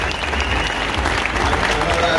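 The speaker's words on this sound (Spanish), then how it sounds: "un aplauso para Francisco, porque se lo merece." A crowd applauds at the inauguration of a motorcycle expo, a steady, fairly loud roar of clapping with some crowd noise underneath, sustained and even for the whole stretch.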